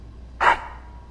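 A single short, sharp dog bark from the Dragon Age II video game rings out once, fairly close and loud, against a quiet game background.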